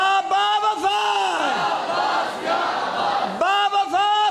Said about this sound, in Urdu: ذرا نعرے مارے ہو, با وفا با وفا